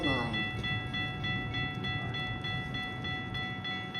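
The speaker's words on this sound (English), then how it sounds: "Milwaukee North train number 2148 to Chicago Union Station is now arriving." A Metra Milwaukee North commuter train pulls into the Lake Cook Road station in a blizzard, its steady rumble and rail noise rising under a station announcement, with a faint horn-like tone early on.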